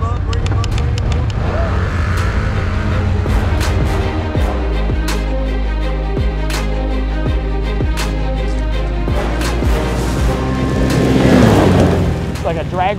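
A 2025 Can-Am Outlander XT-P 1000R ATV accelerates hard in sport mode, a loud, close engine roar rising steadily with quick gear-shift dips, and people talk now and then over it.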